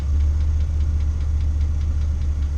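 A Chevrolet Astro van engine idles steadily and evenly with no misfire, a loud close low rumble with a regular mechanical tick, and no talking over it.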